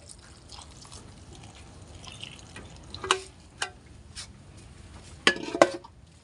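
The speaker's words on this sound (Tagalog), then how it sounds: "Lagyan natin ng konting tubig para sa ating pagpapakulo." Water poured into a pot holding a tilapia dish with green chilies, readied for boiling: a soft, quiet trickle with a few sharper drips and splashes near the end, no talking.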